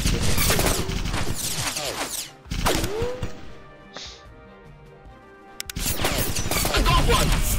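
Aircraft machine-gun fire in the flight combat game The Few comes in loud, dense bursts at the start and again near the end, with a quieter gap and a brief high tone between them.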